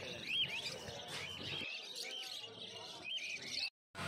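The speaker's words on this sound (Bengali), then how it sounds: "এই খাঁচার মধ্যে যে লাভবার্ড পাখিগুলো দেখতে পাচ্ছেন" Many lovebirds chirp and tweet continuously in cages at a bird market, a dense, busy chatter close by with no talking.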